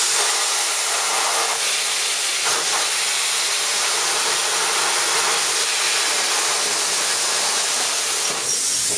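A pilot arc plasma torch cuts painted steel with a loud, continuous rushing hiss of air and arc that holds steady for several seconds, broken only by a few brief dips, with no one talking.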